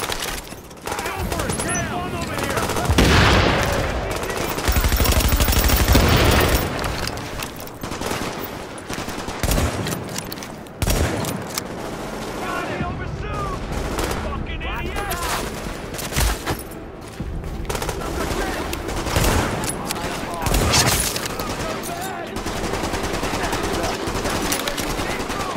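Heavy sustained gunfire in a firefight at a park in the video game Tom Clancy's The Division, loud bursts and rattling volleys running almost continuously with booming impacts and voices calling out over the shooting.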